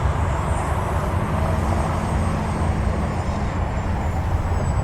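An E-flite Micro Draco RC plane cruising at about half throttle gives a steady, continuous motor drone, with broad noise and a constant level throughout and no voices.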